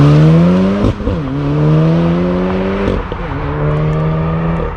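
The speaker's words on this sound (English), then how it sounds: "Let's do a launch from the outside." A rebuilt 2016 Volkswagen Golf R with APR modifications launches hard and revs through gears, its loud, close engine note climbing steadily with two sharp shift breaks along the way and no talking over it.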